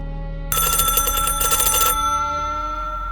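A loud mechanical telephone bell rings in a rapid metallic trill for about a second and a half, then a lingering hum remains.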